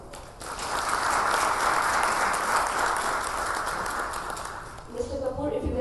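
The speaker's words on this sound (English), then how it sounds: "Can we please have a round of applause for Mr." Sustained applause from a keynote audience at an energy storage conference in India, greeting solar energy executive Tarun Kapoor; dense, steady clapping that fills the room and tails off near the end.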